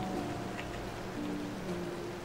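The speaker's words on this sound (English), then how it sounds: "it's raining right now" Steady rain patters in the video game RaidBorn during its Halloween event, a constant even hiss with no gaps, heard alone for the whole stretch.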